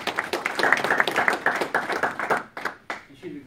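A small meeting audience claps steadily for several seconds, crisp individual hand claps blending into applause that thins out and tails off toward the end, with some voices underneath.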